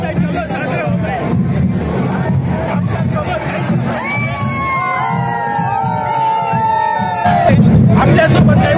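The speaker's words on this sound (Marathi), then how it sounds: "वैजापूरमध्ये बघितलं तर जल्लोष रमेश बोरनारे यांचा विजयाचा जल्लोष खूप मोठ्या उत्साहात साजरा होत आहे" An outdoor crowd in Vaijapur celebrates an election victory with a loud, continuous roar of cheering and shouting, and a sustained rising call cuts through the babble midway.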